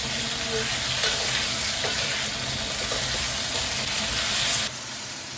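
Carrots and potatoes stir-frying for a chicken dish, a steady loud sizzle and hiss with occasional stirring scrapes, the frying noise dropping slightly near the end.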